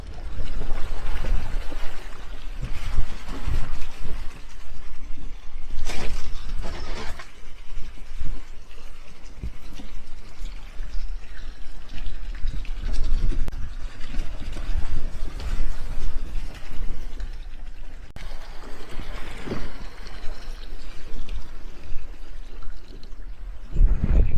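A Jeep Rubicon on a solo off-road trip drives down a stream, with steady, close rushing and splashing water over a low rumble that keeps going throughout.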